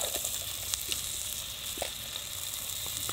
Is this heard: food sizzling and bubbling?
yes